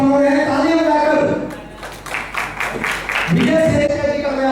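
An audience at a Multani community memorial event claps to welcome the guest of honor, a brief burst of applause between stretches of someone speaking over a microphone.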